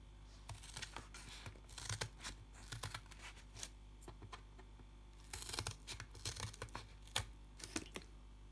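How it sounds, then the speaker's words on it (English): Scissors cut through a cardboard box for a Christmas decoration craft, giving repeated crisp snips and crunches in irregular bursts, close and fairly quiet, with no talking. "And then just cut along the whole base of the box."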